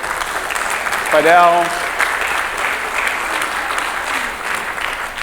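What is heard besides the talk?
audience applause for Vanessa at a cooking demo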